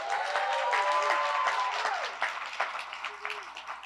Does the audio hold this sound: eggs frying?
no